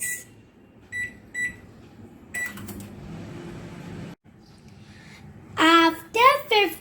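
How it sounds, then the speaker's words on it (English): Electronic beeps as an oven is set to 200 degrees to cook tandoori pomfret: a few short, clear tones at close range, followed by a steady fan hum and then voices. "I put it in the oven. And now we are going to cook it on 200 degrees for"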